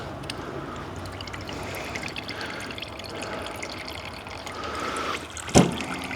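Water runs steadily while a paint spray gun is rinsed out, a faint continuous trickle and splash nearby, ending in a short sharp knock.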